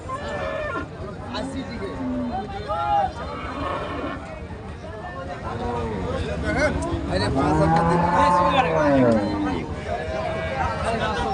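Cattle moo repeatedly at a busy cattle market, with a louder, drawn-out call near the end, while people haggle and talk over the animals.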